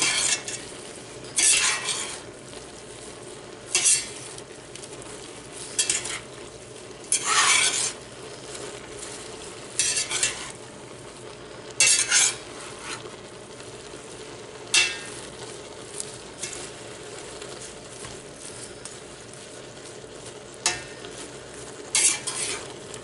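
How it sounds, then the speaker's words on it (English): Kale being stirred in a cooking pot, with repeated scraping and rustling strokes at an irregular rhythm over a low sizzle, close and moderately loud, with no voices. "The idea is to try and bring the kale that's on the bottom of the pot up towards the top"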